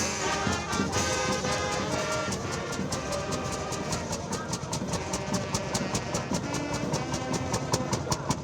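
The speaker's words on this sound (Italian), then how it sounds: "I motori si sono scaldati nel senso letterale del termine" Engines idle and warm up at an agricultural fair ahead of a parade, a steady mechanical drone with a rapid regular ticking pulse running throughout, fairly distant and without talk.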